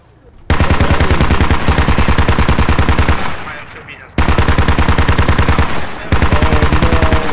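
Loud sustained automatic gunfire from a BTR armored vehicle in a tactical military video game, two long rapid bursts broken by a short pause, close and dominant.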